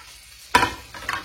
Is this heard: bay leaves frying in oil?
yes